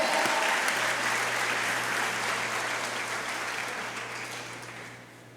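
A church congregation claps steadily in a dense, continuous wash of applause that gradually fades out over about five seconds, with no talking over it.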